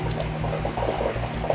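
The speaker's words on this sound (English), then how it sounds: "You can hear it filling up with water." Rainwater running into a newly installed garden water butt, a steady bubbling, gurgling trickle with a pulsing low rumble, close and continuous.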